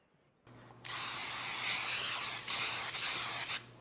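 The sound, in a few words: cooking spray onto baking dish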